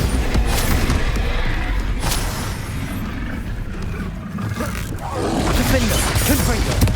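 Spell effects from the video game Hogwarts Legacy, Confringo, Incendio and Bombarda, as a steady stream of booming blasts, crashes and roaring bursts layered over continuous combat noise, loud and dense throughout.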